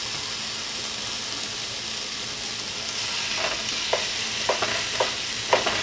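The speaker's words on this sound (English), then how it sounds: "you're just gonna brown the hamburger meat" Hamburger meat browns in a pan with a constant hiss of frying, close and steady, while a spatula folds it with several sharp scrapes and taps toward the end, and no one speaks.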